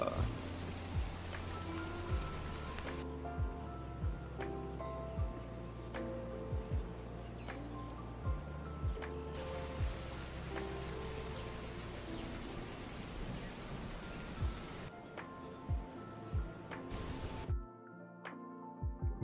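Synthetic rain ambience in an Unreal Engine 5 procedural biome scene, a soft steady patter with scattered sharper drops and faint low rumbles, quiet and continuous, breaking off briefly partway and near the end.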